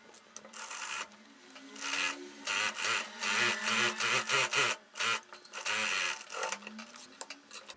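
A domestic sewing machine stitches lastex shirring elastic on a midi dress, with quick whirring bursts of stitching that start and stop and include short backstitch runs at the start and end of the seam.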